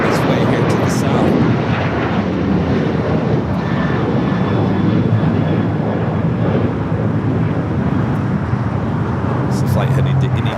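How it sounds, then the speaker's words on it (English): A Boeing 737-800 jet airliner passes at Los Angeles International Airport, a loud sustained roaring engine rumble filling the whole clip with slight wind buffeting. "That was a Boeing 737-800."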